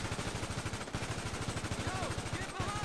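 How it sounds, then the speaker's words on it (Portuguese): Rapid bursts of automatic gunfire in GTA V rattle continuously in a dense, loud stream during a jewelry store robbery, with voices faintly mixed underneath. "O tiro comendo"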